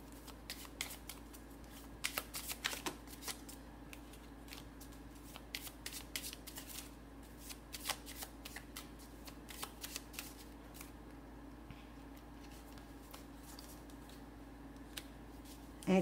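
Playing cards are shuffled by hand for a tarot-style reading, a quiet run of soft riffling and flicking with a few sharper snaps, close by and without talk.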